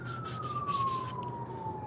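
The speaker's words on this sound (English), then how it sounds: "Sound like an ambulance out there in that area behind us." A distant ambulance siren holds a steady, slowly falling wail behind rhythmic scraping bursts from wood carving outdoors in a forest.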